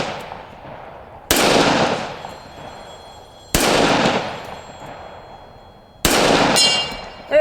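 Three loud, sharp pistol shots from a Springfield Armory Garrison 1911 fired at an outdoor steel target, spaced a couple of seconds apart, each cracking hard with a ringing metallic tail as it decays.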